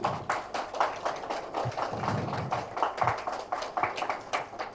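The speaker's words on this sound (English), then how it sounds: "with huge applause" Audience applause at a doctors' excellence awards ceremony as a speaker is welcomed, a steady patter of many hands clapping, fairly close and continuous.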